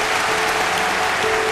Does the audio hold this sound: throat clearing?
no